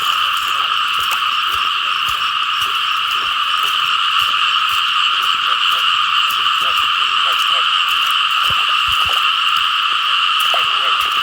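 A dense chorus of frogs croaks steadily and loudly in the water during a frog-catching outing. The many overlapping calls run without pause and bury the faint background noises.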